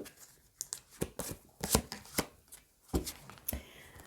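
Oracle cards from a witch-themed wisdom deck are shuffled for a tarot-style reading, giving soft irregular riffling and slapping bursts close by in a quiet room, with no talking.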